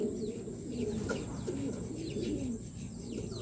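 Racing pigeons coo steadily in a loft, soft overlapping low burbling calls filling the whole stretch, close and dense, with faint chirps above and no speech.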